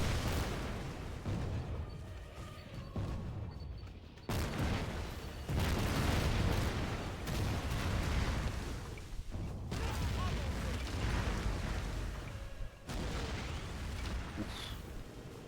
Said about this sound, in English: That was some big explosions.